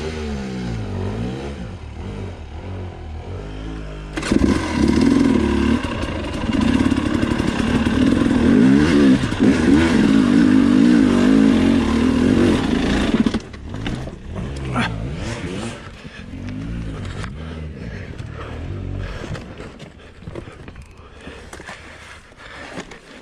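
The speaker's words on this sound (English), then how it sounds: "Try having to ride a piece of crap Garrett's brother's bike up this" Dirt bike climbs a steep, rough trail, its engine roaring and revving loudly nearby, then dropping to a rougher, lower idle with some clatter, with a little speech.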